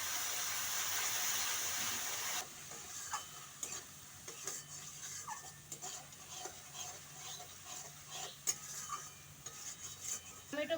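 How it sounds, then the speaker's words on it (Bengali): Tomato paste and spices sautéing in a pan for a Bengali rohu fish mustard-poppy curry: a steady sizzle at first, then quieter frying broken by repeated scraping and clinks of a spatula stirring against the pan. "টমেটো বাটা দিয়ে খুব ভালো করে কষিয়ে নেবো যতক্ষণ না টমেটো বাটার কাঁচা গন্ধটা চলে যায়।"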